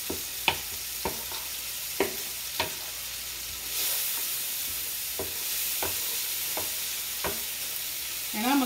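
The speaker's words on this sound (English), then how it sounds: "just keep on browning that meat and try to just crush your meat up" Ground meat for taco skillet browning in a skillet, a steady close sizzle with repeated sharp scrapes and clacks of a utensil breaking up the meat, no voices.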